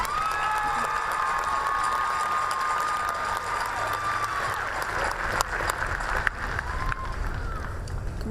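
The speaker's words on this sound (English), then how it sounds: "Please give a round of applause for Emma Thielander, Risa Vargas, Daisy Mae Struck." A graduation audience at McMinnville High School claps in a sustained, dense round of applause that fills the hall, with a few louder sharp claps standing out near the end.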